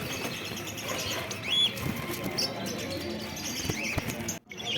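Caged lovebirds and finches at a bird market in Garia, with wing flapping, scattered chirps and short tweets close by over a busy market background, and people talking now and then.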